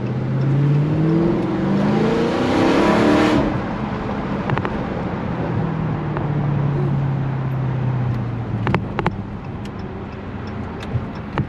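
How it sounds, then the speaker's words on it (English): Car engine droning from inside the vehicle, revving up then easing off, with occasional sharp knocks and rattles from bumps in the road. "Man, these roads are bumpy."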